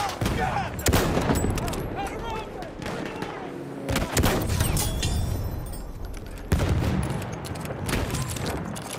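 Gunfire in the video game Battlefield 1, a dense sustained fusillade of shots and booming blasts running throughout at close range, with a player talking over it.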